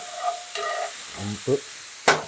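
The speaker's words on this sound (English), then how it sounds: "Let it sit there, let it sear, let those caramelizations happen" Mushrooms searing in a hot pan for a vegan pulled-mushroom sandwich. A short burst of sizzling comes with squeaky spatula scrapes and a sharp scrape near the end.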